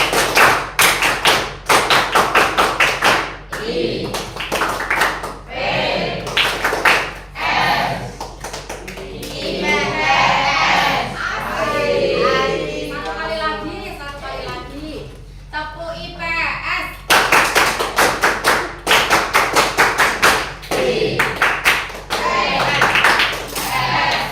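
A class of junior high students performs the Tepuk IPS clapping ice breaker, with rhythmic patterned claps in rapid bursts, loud and close, alternating with children's chanting and a teacher's voice in the middle stretch.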